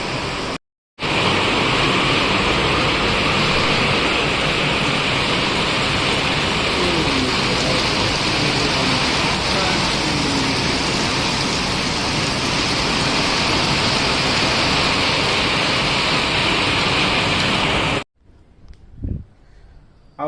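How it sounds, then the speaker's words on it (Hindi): Heavy monsoon rain in Odisha pours down as a loud, steady, unbroken hiss for most of the stretch, with no voices, then cuts off abruptly near the end. "ଆଜି ବହୁତ ବର୍ଷା ହେଲା"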